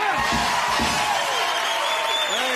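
Studio audience on a cooking show cheering and whooping for actor Tony Danza, a loud continuous wall of crowd noise with shouts rising above it, sustained throughout.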